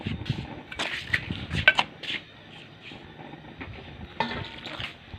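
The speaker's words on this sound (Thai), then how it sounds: "คนแป้งนะคะตีแป้งให้มันเหนียวเหนียว" Flour batter for frying eggplant is stirred and beaten in a bowl, producing close, irregular wet slaps and scraping knocks with brief clattering of the utensil against the container.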